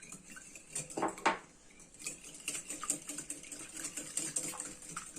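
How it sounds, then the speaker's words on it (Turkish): Three eggs being whisked in a bowl: quick, uneven clinks and scrapes of a whisk or fork against the bowl, fairly faint and close, with a couple of sharper knocks early on. "3 yumurtamızı çırpıyoruz"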